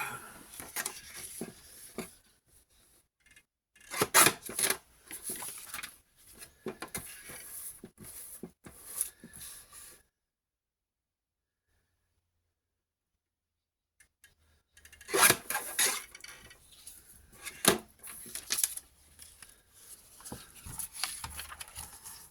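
Printed vellum being cut to size on a paper trimmer board, with close, quiet scraping and rasping strokes in two bursts separated by a long silent pause.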